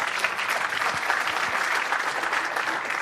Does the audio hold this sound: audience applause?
yes